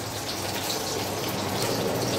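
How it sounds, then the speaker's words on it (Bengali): Rice boils in a pot on an induction cooker, making a steady, fairly loud bubbling hiss that continues throughout with no talking. "এদিকে ভাতে ভাত ইন্ডাকশনে বসানো, দেখো আওয়াজ আসছে কি"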